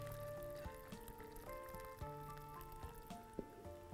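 Hot water is poured into a pot of lentil soup with cubes of stock, a faint trickling and splashing set against a soft sizzle from the pot.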